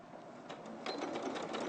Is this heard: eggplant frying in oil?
no